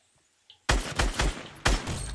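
Gunfire in the video game Fortnite: a loud, close volley of shots bursts in abruptly after a near-silent start, with several sharp cracks spaced roughly a quarter-second apart and no voices.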